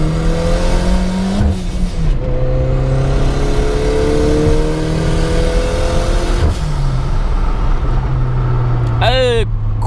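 A turbocharged car engine revs loudly as it accelerates, with pitch climbing and dropping at each gear change, including one fumbled shift; a person talks over the close, continuous engine noise.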